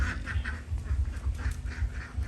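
Many ducks quack repeatedly and loudly on a duck farm of about a thousand birds, a busy overlapping chorus from a crowded flock close by.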